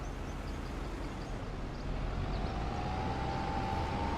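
A tractor engine in Farming Simulator 25 gives a loud, steady broadband rumble that grows louder partway through, with a faint rising whine near the end. No voices are heard.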